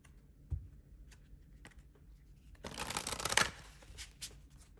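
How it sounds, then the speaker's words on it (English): A deck of tarot cards is handled quietly, with a few soft taps, then a short burst of riffling and shuffling before a card is pulled. The sound is close but faint overall. "So let me pull some more cards."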